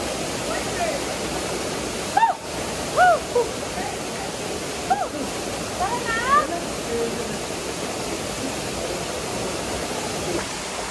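A small jungle waterfall at a camping spot, steady broadband rush of falling water running throughout, with a few brief bird-like whistles and faint voices over it.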